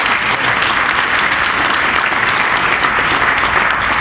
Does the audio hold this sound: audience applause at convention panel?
yes